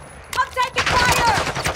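Call of Duty: Modern Warfare II gunfire, rapid bursts of automatic shots cracking close and loud in a dense, overlapping barrage during a firefight.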